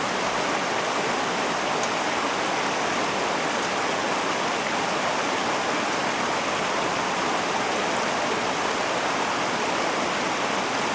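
Steady broadband rush of a creek flowing at a campsite, continuous and fairly close, with no voices over the even watery hiss.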